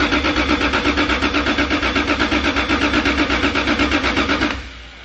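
Toyota 2JZ 3.4L engine cranking over steadily for about four and a half seconds, a loud rhythmic churning pulse with even cylinder beats, then cutting off to quiet.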